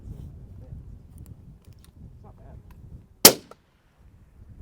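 A single sharp, loud shot from a 6.5 Creedmoor rifle at a long-range shooting course. It cracks once and fades quickly, with quiet background murmur before and silence after.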